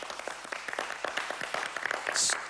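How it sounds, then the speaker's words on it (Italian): Audience applause at a comedic political rally performance, a dense patter of clapping filling the whole stretch at moderate level with no voices on top. "Un applauso anche a Gagliosto, va!"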